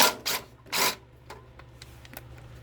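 Ratcheting socket wrench working loose the 3/8 inch fuel tank bolt on a lawn mower that won't start, heard as two close, loud bursts of clicking followed by a few fainter, sparse clicks and small metallic ticks.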